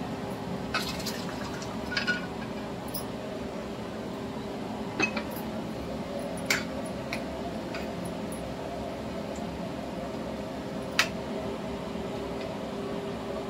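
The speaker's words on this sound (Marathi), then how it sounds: "आता हे छोले आपण टाकूया पाणी सगळं" Boiled chickpeas and their cooking water are poured into a pan, giving a soft, steady liquid wash with a few small clinks of utensils against the pan, faint and close.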